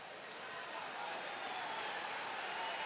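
An arena crowd applauding at a preseason basketball game between the New York Knicks and Olimpia Milano, a steady wash of clapping that builds slightly, with a voice talking over it.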